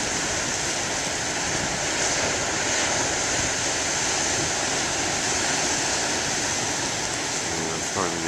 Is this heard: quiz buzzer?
no